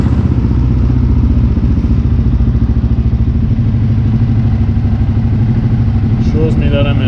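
A fuel-injected 2021 CFMOTO CFORCE 600 ATV engine runs at a steady, close, loud idle with an even low throbbing pulse throughout, and a faint higher chirp near the end.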